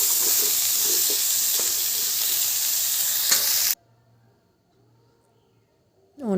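Fish head curry with pumpkin, potato, salt and turmeric sizzles loudly in a pan while it is stirred, with a few scraping knocks, then cuts off abruptly to near silence.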